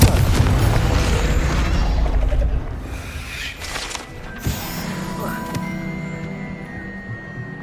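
Spell blasts in the Hogwarts Legacy video game: a heavy booming explosion burst up front, then another sharp pop and rumbling impact, over steady game music and ambience.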